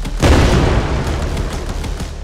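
A grenade blows up a bug mound in the video game Star-Troop Defense: one loud, deep booming explosion that hits hard at once and rumbles on, fading slowly without any talk.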